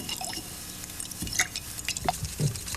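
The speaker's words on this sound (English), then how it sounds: "Just slosh the brush around in a little solvent" Paintbrush swished around in paint thinner solvent, with soft wet sloshing, dripping and stirring sounds close by, continuous and fairly quiet.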